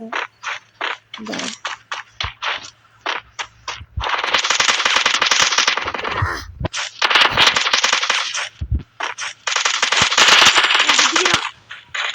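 Gunfire in the Free Fire shooting game, rapid single shots giving way to long loud automatic bursts with brief pauses, close and dominant throughout, no talk over it.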